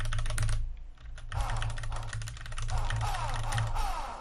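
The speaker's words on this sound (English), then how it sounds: "It's got sort of a scratchy sound on those roller bearings." A trackball mouse's ball rolls over its roller bearings with a dry scratching rasp, close up and fairly loud, rising and falling in short continuous bursts over about four seconds with brief gaps.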